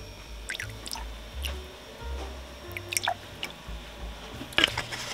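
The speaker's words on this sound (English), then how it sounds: "I'm going to add the fragrance." Fragrance oil drips into melted candle wax while making apple-shaped candle embeds. Soft, scattered drips and small wet squishes sound close and faint, with no voices.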